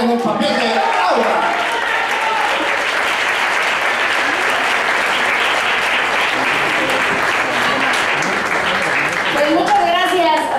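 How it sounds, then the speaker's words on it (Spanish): Loud, sustained applause from a crowd at a red carpet presentation of the telenovela Las Trampas del Deseo, a dense wash of clapping that stays steady for the whole stretch, with some voices faintly mixed in. "que suena fuerte el aplauso para recibir a Marimar Vega en el papel de Laura"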